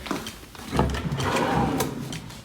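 A hotel room drawer slides open with a short wooden rumble and soft knock, close by and moderately quiet in a still room.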